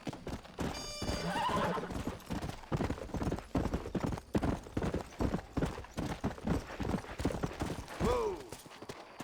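A horse in Red Dead Redemption clip-clops with a fast, steady run of close hoof strikes. A whinny rises near the start and another near the end, and the hoofbeats stay loud throughout.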